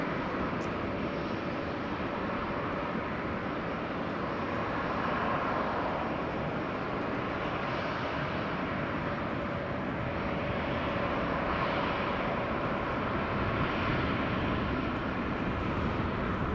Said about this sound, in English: Finnair is on the move, it is going out.